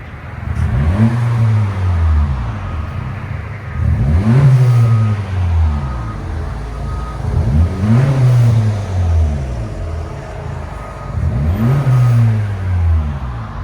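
Exhaust of a 2024 Honda Civic 2.0L with a muffler delete, revved four times in a row; each loud, close rev rises sharply and falls back to a steady idle rumble between blips.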